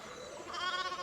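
A single sheep bleat in the video game Pentiment, short, close and wavering.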